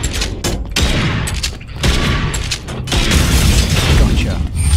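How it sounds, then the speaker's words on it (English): Shotgun fire in the video game Bunker Punks, a run of loud, booming blasts with mechanical reload clatter between them, close and dense, with a voice talking over parts of it. "Lock and load. Shotgun time!"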